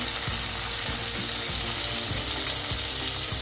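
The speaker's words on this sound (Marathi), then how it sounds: "भाजत असताना त्याच्यामध्ये एक छोटा टोमॅटो टाकायचा" A small tomato roasting in a hot pan for chutney gives a steady, close, dense sizzle with faint periodic stirring scrapes throughout, no voices.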